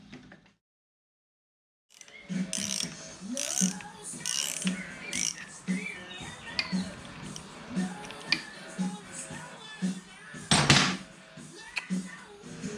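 Wrench working the 7/8 nut on a Triumph T140 clutch, with a series of metallic clicks, clanks and ratcheting knocks at close range, a loud clank near the end, and a voice talking intermittently over the work.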